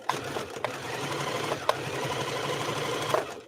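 A sewing machine stitches fabric in a continuous fast whirring run, close and steady, with a few sharper clicks scattered through it and no voices.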